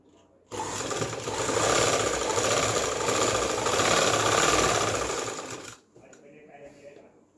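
A sewing machine stitches lace onto fabric, a fast continuous mechanical whir that starts abruptly, runs steadily for several seconds and then stops, followed by a faint voice.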